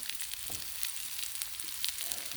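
Sirloin steak sizzles steadily on a flat griddle, a bright continuous crackle with small pops and spits, close and fairly quiet with no talking.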